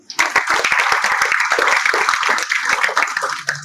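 Audience of engineering college students applauds at a special lecture in Modasa, a dense, steady burst of clapping that holds for several seconds before tapering at the end.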